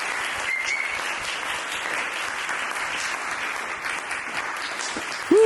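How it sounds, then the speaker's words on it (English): A closing round of applause from the audience at a podcast recording about art and painting, even and sustained clapping filling the whole stretch, with a brief sharp sound at the very end. "So one last round of applause."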